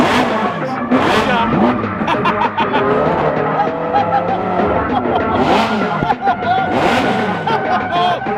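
A loud, revving supercar engine roars continuously with rising and falling pitch, tires briefly squealing, while people talk in the background.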